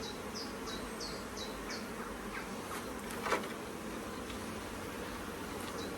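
Honey bees at a UK bee farm during queen introduction, a dense, steady hive buzz close by, with a few brief chirps over it and no talk.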